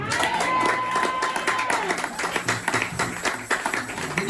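A church congregation applauding during a sermon, a steady wash of clapping from many people, mixed with voices and background music.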